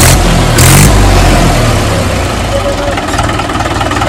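A 575 tractor's engine is revved with the accelerator, giving a loud, close rumble that surges early and then settles into a rougher idle.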